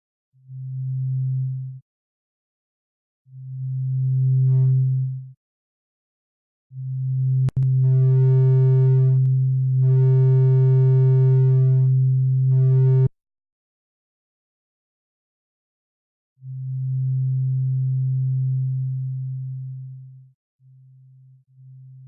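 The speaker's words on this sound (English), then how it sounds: "the sine waves with a phase shift of 180 degrees cancel each other out" Low synthesizer oscillator sine tones sound in separate sustained notes, some buzzier and richer in overtones, with a sharp click where the phase shifts and a few stretches of near silence where the waves cancel out.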